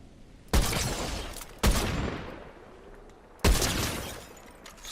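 Three loud gunshots from Fortnite gameplay, each a sharp close blast with a long decaying tail, spaced unevenly across a few seconds with no talk.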